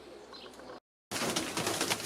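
A large flock of Zamość pigeons high overhead, heard faintly as soft cooing and wing noise, broken by a brief moment of silence before resuming.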